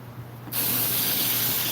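A garden hose bursts on partway through and sprays water in a loud, steady, broad hiss that rinses soapy water off plants.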